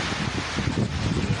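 Strong typhoon wind during the landfall of Typhoon Enteng in Casiguran, Aurora, a loud continuous rushing roar buffeting the microphone for a brief stretch.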